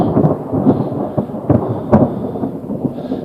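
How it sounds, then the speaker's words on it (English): Low, heavy rumbling thunder rolls in bursts, fairly loud, with a soft patter of rain in the background. "Listen to that thunder."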